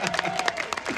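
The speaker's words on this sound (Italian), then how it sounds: "L'applauso di più, di più," Applause and cheering from an audience at the Suzuki Motor Fest at Misano, an interview event, with dense clapping under crowd voices and a steady tone, brief and fairly loud.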